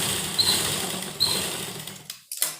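A domestic sewing machine runs in short bursts, stitching the neck strips of a baby frock, with a steady whirring hum, brief pauses and quick restarts near the end.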